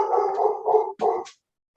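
Several dogs barking in a short indoor burst, a run of overlapping barks followed by a couple of sharp final yaps, close and fairly loud, then silence.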